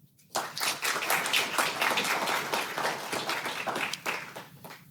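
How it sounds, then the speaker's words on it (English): A luncheon audience bursts into applause that starts abruptly, swells into dense, sustained clapping from a room full of guests, then tapers off near the end, with no speech over it. "That deserves a round of applause."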